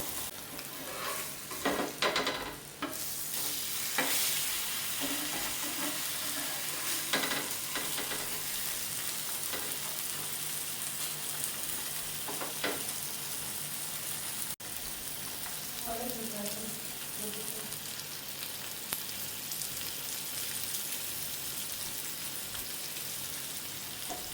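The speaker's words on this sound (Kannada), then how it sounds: "ಹೆಂಚು ಕಾದಿದೆ ಒಂದೊಂದೇ ಹಾಕ್ಕೊಳೋದು ಮ್ಯಾರಿನೇಟ್ ಮಾಡಿರೋದು ಇದೊಂಚೂರು ಹಾಕ್ಕೊಂಡು ಫ್ರೈ ಮಾಡ್ಕೋಬೇಕು" Marinated fish fries on a hot griddle pan, a steady dense sizzle throughout with occasional scrapes and knocks as pieces are placed and turned, and a voice talking softly in places.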